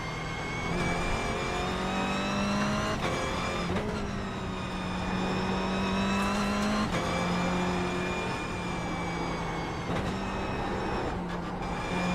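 Toyota GR Cup race car engine in iRacing at Tsukuba Circuit: a steady, loud, buzzing engine note holding high revs, with several brief dips and pitch changes as gears shift, alone without talk.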